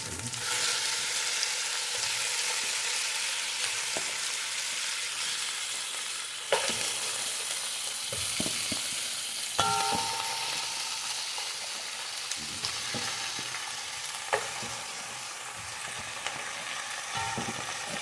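Beef spare ribs sizzle in a hot pan of sautéed onions for ginisang monggo, a continuous loud frying hiss broken by occasional scraping and clinking stirs, close up with no talking.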